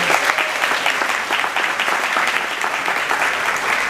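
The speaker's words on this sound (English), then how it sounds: "Please give them a round of applause." A large audience applauds steadily throughout, dense and sustained at even volume, at a table-decorating event held in an airport hangar.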